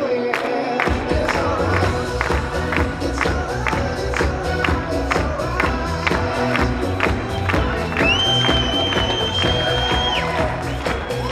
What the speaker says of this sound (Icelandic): endilega að klappa og láta heyra að þið hafa gaman